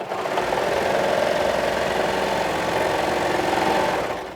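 A sewing machine stitching together fabric rectangles for a wrap garment runs in one continuous, close, even whir with a fast mechanical chatter, holding steady from start to finish with no pauses.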